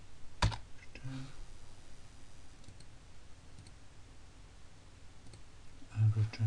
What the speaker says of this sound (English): here I'm going to type B. Return.